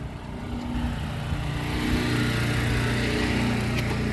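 A tractor engine runs under steady load while pulling out a roller, making a continuous close rumbling drone that builds slightly and then holds, with no voices.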